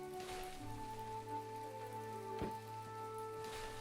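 Steady rain falls in the video game My Time at Portia, a soft continuous patter heard under faint tonal game music, with no voices.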